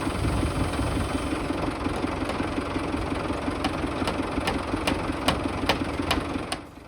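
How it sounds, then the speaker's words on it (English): A tractor engine works steadily while timber eaves for a sawmill shed roof are lifted into position, a continuous mid-pitched diesel drone with faint rhythmic knocking, close and even throughout before easing off at the end. "there's just a little bit of tractor work to get these eaves lifted up and positioned properly"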